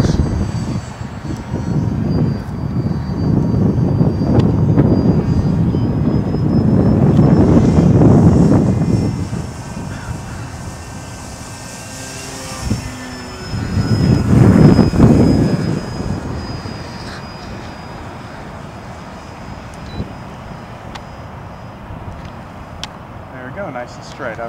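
RC model Piper Cherokee airplane on its maiden flight, its engine droning continuously and swelling twice as it passes nearer, heard outdoors in wind with people talking throughout.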